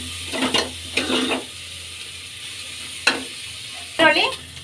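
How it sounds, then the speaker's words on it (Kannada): Onions and curry leaves sizzle in a pan for dahi kadhi, with four short bursts of scraping stirring over a steady frying hiss, close and fairly loud. "ಈಗ ಕರಿಬೇವು ಸೇರಿಸ್ಕೊಳ್ಳೋಣ. ಈರುಳ್ಳಿ ಚೆನ್ನಾಗಿ ಕುಕ್ ಆಗಲಿ."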